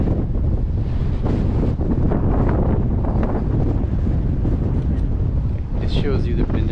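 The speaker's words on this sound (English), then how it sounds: "It is super windy today." Strong wind buffets the microphone in a constant low roar, loud and rumbling throughout, with no clear voices.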